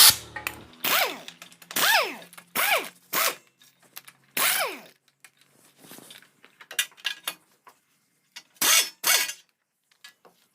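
A ratchet wrench clicks in repeated quick bursts while loosening the 8 mm clutch cover nuts on a Hero HF Deluxe BS6 motorcycle, with short rising zipping strokes and pauses between, close by in a quiet workshop.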